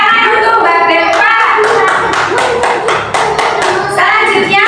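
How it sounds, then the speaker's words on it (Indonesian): A classroom of young children applauds together in a steady, loud burst of many overlapping hand claps that fills the room and holds from start to finish. "Tepuk tangan untuk Mbak Belva"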